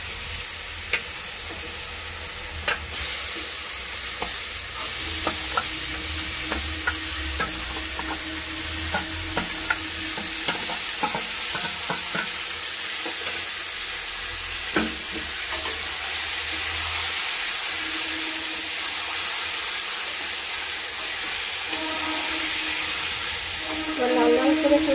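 Chicken fries in a pan with a continuous sizzle while a utensil repeatedly scrapes and stirs, producing irregular clinks and scrapes close up over the steady hiss throughout.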